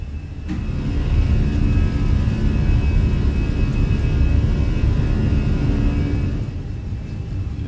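Airliner jet engines spooling up to takeoff power on the runway roll, a loud broadband roar with a thin steady whine on top, building in the first second and holding steady throughout.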